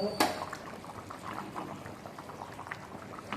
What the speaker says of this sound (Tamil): கொதிக்குது பாருங்கள் சூப்பராக கொதிக்குது